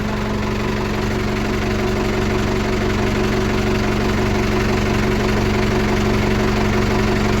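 A Mahindra 575 tractor engine runs steadily at idle, a loud, even diesel throb with a strong low hum and slight knocking rhythm, continuous throughout with no voices.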